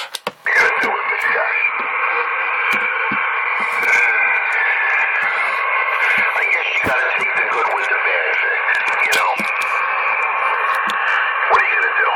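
A CB radio transmission with a tinny, band-limited voice talking continuously over crackling static.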